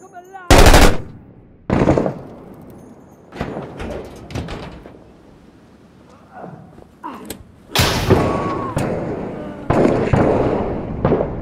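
Sniper fire and other gunfire ring out in the military shooter game Six Days in Fallujah: loud, close bursts and single shots with heavy thuds, spread through several seconds of combat.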